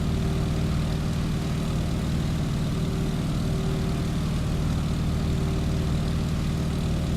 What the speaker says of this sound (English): Pitch to climb out at 80 miles per hour or about 70 knots.